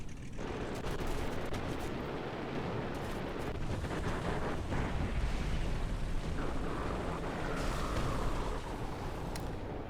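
Artillery shells bursting around a Panzer III N tank in War Thunder, a dense unbroken rumble of blasts and gunfire at full loudness with no voices.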